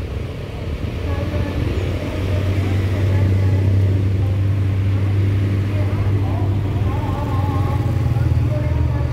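A convoy truck pulls away at full throttle, its engine drone loud and close, rising and holding steady as it accelerates.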